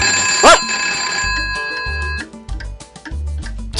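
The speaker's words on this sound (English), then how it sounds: "the phone's ringing" An electronic telephone ring in the Where's the Blanket Charlie Brown video game: one bright trilling tone burst, then sustained ringing tones over soft background game sounds with low thumps.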